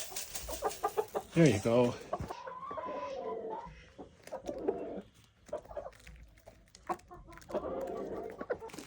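Backyard chickens, one named Elvis, cluck and squawk in bursts while being hand-fed, close by, with a person talking to them briefly between the calls.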